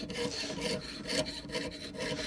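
A jewelry saw blade cuts through a workpiece, held straight while the piece is moved. It makes a close, steady rasping in quick back-and-forth strokes, with a regular rhythm and no talk.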